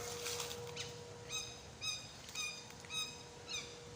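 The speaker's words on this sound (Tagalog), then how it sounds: "Kaya may mga ibon, oh." Birds call repeatedly in a rubber tree plantation, with short high chirping phrases recurring about every half second against a steady background hum, moderately close and clear with no talking.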